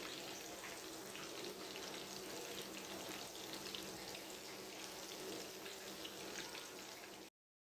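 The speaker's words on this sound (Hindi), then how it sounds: "एक साइड से फ्राई करने के बाद अब हम इनकी साइड चेंज करेंगे और इन्हें दूसरी साइड से भी फ्राई कर लेंगे" Chicken pieces fry in hot oil in a pan, a dense, steady sizzle and crackle holding at an even level throughout, close up with no talk.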